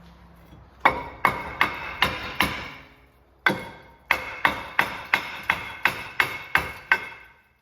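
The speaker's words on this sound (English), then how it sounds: "If they're not loose, give them a tap with a hammer" Sharp metallic hammer strikes ring out against a corroded Ford Transit brake disc, four quick blows, a pause, then about eight more in a steady rhythm, each decaying briefly.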